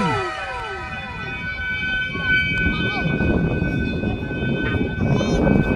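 A high, steady whistling tone with several sustained pitches sings over rushing wind noise, from a flute whistle on a 2.5-meter kite flying in a strong breeze.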